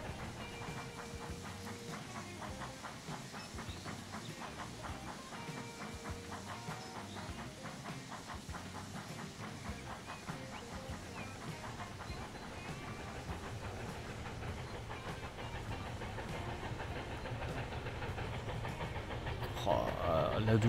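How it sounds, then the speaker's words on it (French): A steam locomotive in Transport Fever 2, hissing and clattering with a steady rhythmic chuff that builds slightly louder toward the end, with no voices over it. "La douce mélodie d'une loco-vapeur."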